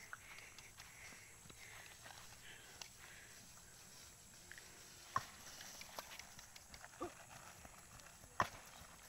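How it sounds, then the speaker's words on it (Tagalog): A horse being ridden and made to run, with faint, sparse hoof clops and a few sharper thuds over quiet outdoor background, with occasional breathy sniffs. "Yan, pinatakbo talaga ni Totski yung kabayo"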